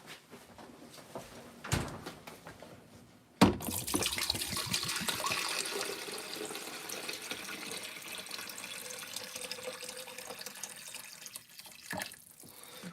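A kitchen tap runs to fill a dog's water bowl, a sustained, fairly close gush of water after a couple of sharp knocks, ending with a brief clatter.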